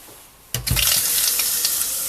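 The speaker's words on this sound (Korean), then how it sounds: "수압을 한번 확인해 볼까요?" A tap turns on abruptly after a short quiet moment in a small rented room, then water runs and splashes steadily into a sink at close range with a strong, even rush, with no voices.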